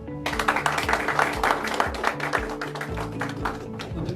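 Audience applause at a health webinar, a steady wash of clapping that keeps up for several seconds over low, sustained tones.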